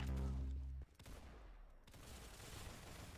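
Rapid gunfire in a Roblox shooter game, likely from a P90, opening with a loud low burst that cuts off, followed by quieter scattered shots and bullets whizzing past amid noisy game ambience.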